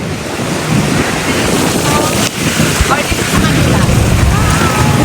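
Ocean waves at high tide surging against a boat landing, a loud continuous roar of surf mixed with heavy wind buffeting the microphone throughout.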